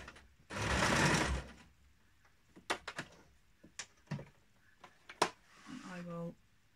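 A low-powered sewing machine back stitching on a kick scooter bag whirs in one short, loud burst, followed by scattered mechanical clicks, handling knocks and a brief voice.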